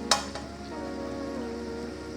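Badusha sweets fry in hot oil with a soft, steady sizzle and bubbling, a brief sharp crackle near the start, then an even low hiss with no voices.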